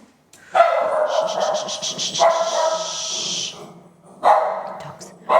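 A dog barks and yips close by during cookie baking in a home kitchen, a run of quick loud barks turning into a long whining yelp, then another bark burst near the end.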